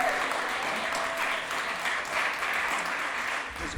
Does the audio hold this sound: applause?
yes